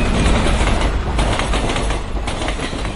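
A speeding mail train rushes past as a sound effect in a Bengali horror audio story, giving a loud, continuous roaring rumble with a dense rattle of wheels that fills the whole stretch without any voices.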